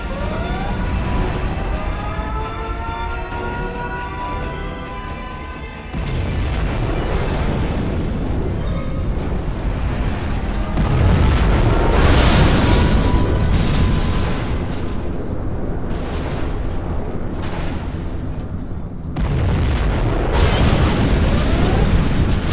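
Nuclear missile strike in the strategy game Command & Conquer Generals Zero Hour, a sustained loud rumbling blast with roaring debris and layered booms swelling in waves, no voices.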